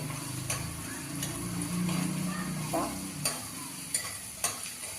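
Asafoetida, turmeric and chili powder sizzle in hot oil as a tempering, a soft steady fry with a few faint ticks and stirring clicks close by, no talk.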